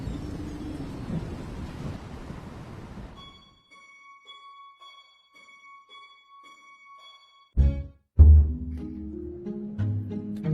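Storm thunder in the VR video game A Fisherman's Tale: a low, steady rumble of wind and rain fades to quiet sustained tones, then sharp, loud booms strike near the end.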